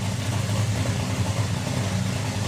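A Top Fuel dragster engine roars during an elimination run at the Santa Pod European Finals 2024, a loud, dense, unbroken blast of power that holds steady without a break.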